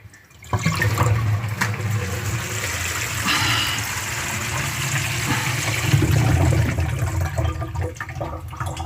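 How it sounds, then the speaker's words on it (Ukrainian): Water rushes steadily down a sink drain, gurgling and swirling through the siphon trap and pipework for several seconds before tapering off near the end. "набираємо води, щоб Безперервна вода йшла у сифон на злив. І зливаємо."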